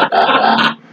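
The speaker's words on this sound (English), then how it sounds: "Dogs in there." A dog growls close by, a loud continuous rumbling snarl that rises and sustains for most of a second before trailing off.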